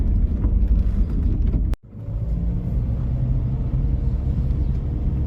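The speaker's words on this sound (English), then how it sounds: "I take him by car anyway" A car driven by a learner driver on a school run, heard from inside as a steady low engine and road rumble, loud and continuous, with a brief dip partway through and no speech.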